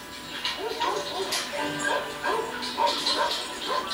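Several beagles bark, yip and whimper close by in a busy chorus of short, overlapping calls, with people talking underneath.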